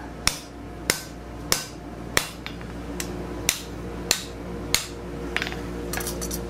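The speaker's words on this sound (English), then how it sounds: "And hammer it to suit." A steel bar is hammered on a no-weld scroll bending jig: about eight sharp, ringing metal strikes land roughly every half second over a steady background hum.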